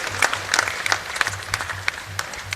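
Crowd at a large Madhya Pradesh public event clapping with both hands raised, a dense, steady applause of many hands with sharp individual claps standing out throughout.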